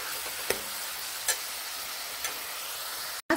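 Chopped onions fry in a pan with a steady, close hiss and sizzle, broken by a few soft clinks of stirring and a brief cut near the end.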